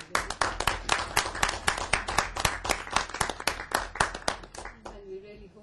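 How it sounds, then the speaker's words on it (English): Audience applause for a dignitary at an award ceremony, with a crowd of hands clapping in a rapid, fairly even rhythm close by, then fading out as a voice begins near the end. "We'd like to say a big applause to His Excellency"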